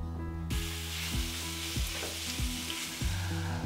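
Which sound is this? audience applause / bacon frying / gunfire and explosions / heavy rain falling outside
bacon frying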